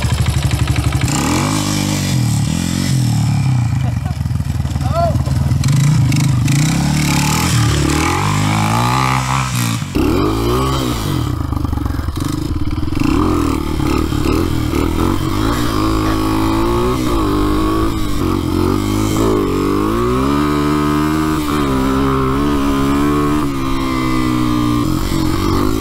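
A cheap $500 dirt bike rides trail terrain, its engine running steadily and loud throughout with revving rises and falls and clattering over bumps, close to the rider with no talk.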